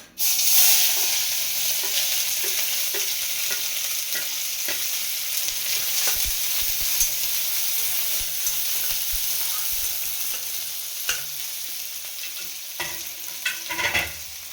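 Chopped large onion sizzling steadily in hot oil in a pan, a continuous loud frying hiss with occasional clinks and stirring scrapes, no voices.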